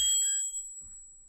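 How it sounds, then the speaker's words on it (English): Overflow bell of a Monroe adding machine rings once, a sharp bright metallic ding close up that fades out over about half a second, followed by a soft low knock. "Such a horrible bell."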